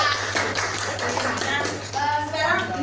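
Classroom students clapping for a group that gave a correct answer, a spread of hand claps over a steady low hum, with a voice speaking faintly toward the end.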